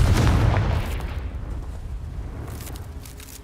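A Confringo spell explosion in Hogwarts Legacy lands as one heavy, booming blast. A rumbling tail slowly fades over the next few seconds.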